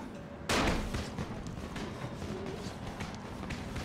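A firecracker bursting in the zombie game Dying Light, one sharp loud crack followed by a decaying crackle and fainter scattered pops under ongoing game ambience.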